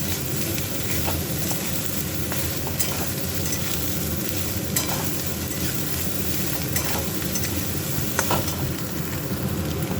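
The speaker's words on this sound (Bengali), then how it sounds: "দিয়ে দিচ্ছি সয়াবিন, আর সয়াবিনটা ভেজে নেবো একটু" Soya chunks frying in a pan after potatoes, a dense continuous sizzle close up with scattered clicks and scraping stirs, no voices.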